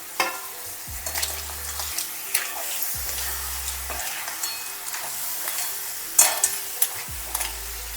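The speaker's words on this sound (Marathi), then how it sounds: "आता हे आपण मस्तपैकी परतून घेऊया." Fish-recipe ingredients sautéed and stirred in a pan, giving a steady close sizzle with repeated scraping stir strokes and low thumps at regular intervals, with no talking.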